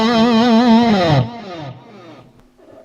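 An electric guitar through an MXR Super Badass Distortion pedal rings out a loud, wavering note with vibrato, then shifts to a lower note and fades into quiet.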